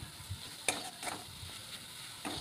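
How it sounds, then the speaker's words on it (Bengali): Fish being stir-fried with spices in a pan, a close steady sizzle broken by several sharp scraping strokes of a spoon, alone without voices. "আর এই মশলার সঙ্গে আমি ভালো করে কষিয়ে নিচ্ছি মাছটাকে"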